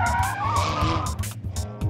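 A 611-horsepower Ferrari 599 GTB Fiorano is pushed into oversteer, and its tires squeal and skid loudly under a strong engine roar in a brief, close burst.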